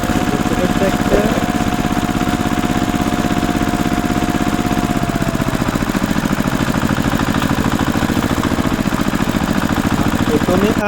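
A toy tractor's motor runs steadily while pulling a trolley, a loud continuous buzzing drone that holds an even pulse throughout.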